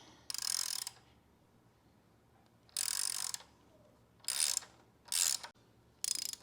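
A 5mm Allen key ratcheting on the shift return spring bolt of a Ducati Panigale, five separate bursts of dry metallic clicking, each lasting a half to one second, close and fairly loud with quiet gaps between.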